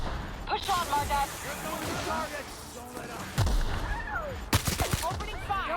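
Gunfire and sharp impacts from a firefight in the video game The Outer Worlds, a few loud cracks cutting through busy combat while characters shout and talk throughout.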